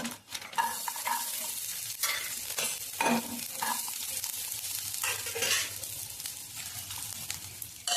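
Dried red chillies fry in a little oil for a moringa leaf chutney, giving a steady close sizzle broken by scraping stirs and light clinks of a utensil against the pan, with no talk.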